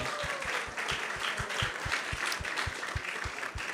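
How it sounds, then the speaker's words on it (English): Rhythmic clapping from an audience at a temple talk, steady even hand claps in a regular beat over a soft bed of broader applause, moderately distant. "let's give a big round of applause to everyone who has joined us today"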